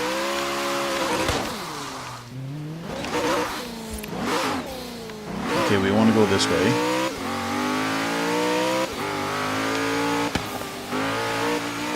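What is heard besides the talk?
car engine revving in video game Forza Horizon 3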